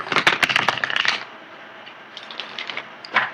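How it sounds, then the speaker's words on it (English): Tarot cards shuffled by hand, a rapid flurry of crisp riffling clicks in the first second, then quieter scattered shuffling taps close by. "let me get the cards shuffled here"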